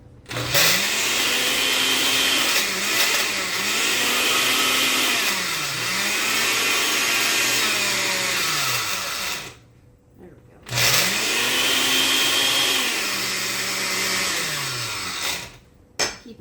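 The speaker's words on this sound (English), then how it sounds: "And we're going to chop them up in our blender." A kitchen blender chops broccoli stems for pasta, its motor whining loud and close in long pulsing bursts with repeated rising-and-falling pitch sweeps, cutting off briefly before starting again.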